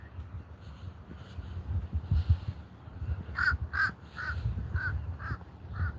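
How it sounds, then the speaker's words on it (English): A loud crow caws in a run of about eight harsh calls, close by and clear over a low rumble of background noise. "That's a loud ass crow."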